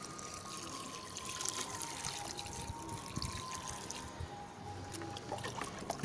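Water poured into a pot holding a turmeric plant, a soft close trickle and splash that runs steadily under a faint outdoor background hum.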